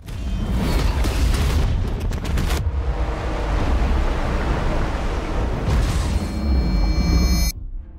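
A loud, booming explosion bursts out and rumbles on for several seconds, with a second crackling blast near the end before it cuts off.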